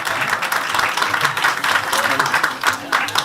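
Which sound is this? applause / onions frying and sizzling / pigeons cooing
applause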